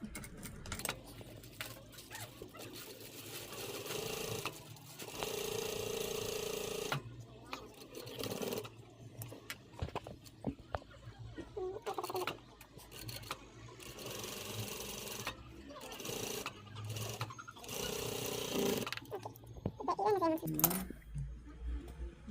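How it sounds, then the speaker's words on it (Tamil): A sewing machine stitches a sleeve band together with its lining on a baby's party frock, running in quiet bursts of rapid stitching separated by short pauses, with occasional speech. "கை பேண்ட் தைக்க போகிறேன். அதுக்கு வந்து முதல்ல லைனிங்கோட சேர்த்து தைக்கிறேன்."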